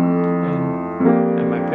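The introduction to a song, with a sustained droning F held beneath chords that shift about halfway through, warm and close, without any voice.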